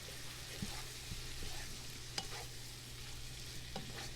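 Food seasoned with Italian seasoning or oregano is stirred in a pan, with soft scraping strokes over a quiet, steady sizzle.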